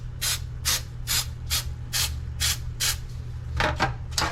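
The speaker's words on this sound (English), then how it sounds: "I'm just using the Pam baking spray" Pam baking spray hissing onto cake pans in about ten short, evenly spaced bursts, close and loud, with no talking.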